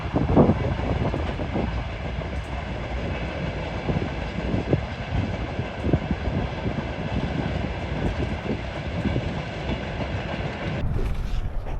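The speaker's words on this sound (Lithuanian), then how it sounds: "Ir čia traukinys." A train rolls past close by with a loud, continuous rumble and rhythmic wheel clatter that holds steady for the whole stretch, with no voices.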